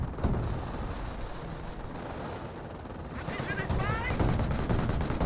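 An MG42 machine gun in Company of Heroes battle fire, dense rapid bursts of automatic gunfire crackling steadily throughout, mixed with other distant combat noise and fairly loud.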